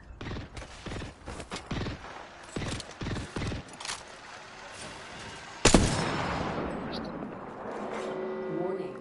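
Scattered gunshots crack through a battle royale video game match: several sharp pops early on, then one loud, close blast followed by a lingering rumble, with voices talking over the action.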